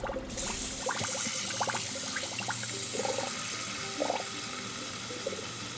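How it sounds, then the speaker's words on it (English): Tap water running steadily over salted cod in a kitchen as the thick salt layer is rinsed off, a continuous close splashing rush with a few clinks. "What I'm doing here is I'm rinsing that first thick layer of salt prior to boiling the rest of it out."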